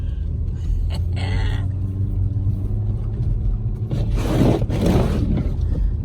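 A car drifting on a slippery road, with a steady engine rumble throughout and a louder burst of scraping, rushing noise near the end, without speech.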